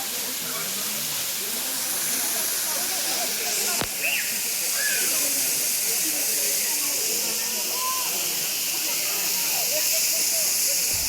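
Steady broadband rush of a waterfall somewhere in Maharashtra, roughly 100–150 km from Nagpur, with people bathing beneath it; the roar is constant and close throughout, with brief voices and a sharp knock rising over it.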